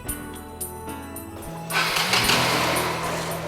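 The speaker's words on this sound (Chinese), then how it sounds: "引擎发动后，发动的情况是否正常顺利？" A motorcycle engine turns over and catches, with a low rumble that jumps to a louder, steady running idle partway through, close by and without talking.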